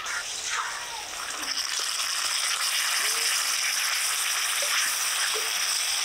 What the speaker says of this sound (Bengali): এবার সমস্ত মশলা বাটা কড়াইয়ের উপর দিয়ে দেবো।